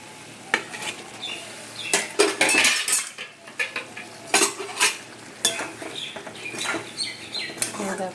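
Pointed gourd (potol) is stirred with salt in a pan, metal utensil scraping and clinking against the pan in irregular bursts over a soft sizzle of frying.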